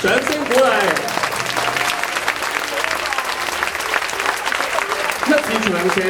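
Audience applause at the 2006 university debate final, a sustained burst of clapping throughout, with a voice talking over it at the start and again near the end.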